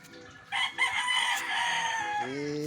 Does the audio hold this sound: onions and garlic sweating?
no